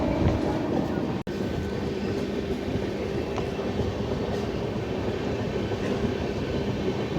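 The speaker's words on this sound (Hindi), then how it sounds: "2:15 पे अपनी गाड़ी आप पहुँच रही है अमला जंक्शन पे।" Grand Trunk Express (12615) rolling into Amla Junction, a steady close rumble of the moving train with rhythmic wheel clatter heard from on board, continuous and even throughout.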